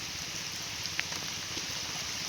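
Steady rain falls over open wetland fields in the Sundarbans, a constant broadband hiss with a few scattered drip ticks, no talking.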